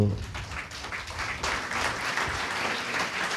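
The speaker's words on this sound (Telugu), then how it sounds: "చప్పట్లు కొట్టండి బాబు." Steady applause from a church audience, sustained and fairly loud throughout, with a brief lower murmur at the start.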